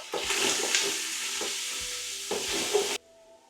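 Fried rice with curry powder sizzles loudly in a pan while a utensil stirs and scrapes in several strokes, close by, before the sound cuts off.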